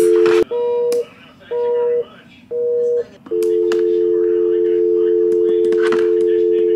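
Hotel room telephone keypad being dialed: several short steady tones in a row, then one long continuous tone held to the end, loud and close, with faint speech in the background.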